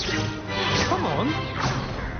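In the video game Hogwarts Legacy, a Confringo blasting spell goes off with a loud, close smashing burst. A shouting voice rises and falls over and around the blast.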